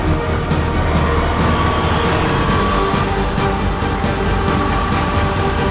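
A 4x4 vehicle grinds along a washed-out, rutted, rocky off-road trail, its engine a steady loud rumble with rattling and crunching over the terrain, continuous and close, with no voices.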